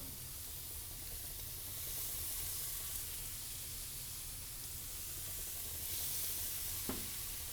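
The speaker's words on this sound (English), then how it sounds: "Just add your skewers right onto the griddle, sizzling hot." Marinated skewers sizzle on a hot, oiled stovetop griddle, a steady soft frying hiss throughout with a faint tap near the end.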